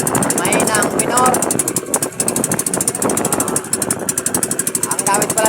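A carbureted small boat engine runs steadily while travelling on rough water, a loud, rhythmic mechanical chugging that persists throughout with wind and water noise mixed in.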